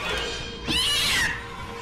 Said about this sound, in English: Alright, cat!